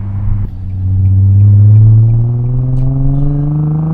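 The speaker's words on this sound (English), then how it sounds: "this Z1 exhaust I was very impressed with." A car engine breathes through a Z1 Touring cat-back exhaust, giving a loud deep rumble that swells as revs climb, then settles into a steady drone, close up with no talk.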